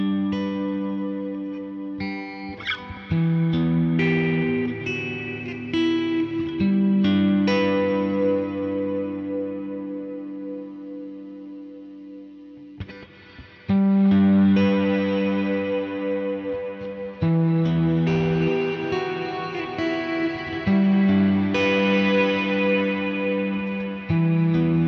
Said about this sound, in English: the Glitz Reverb is already a really ambient reverb